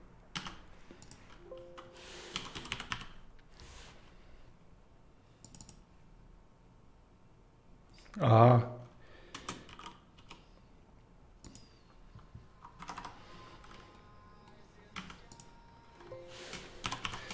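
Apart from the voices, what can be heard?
pressing space bar on computer keyboard in KiCad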